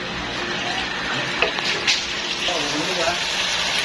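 Water gushes steadily into a tank being fixed up, a continuous pouring rush with a few brief bumps and people talking faintly over it.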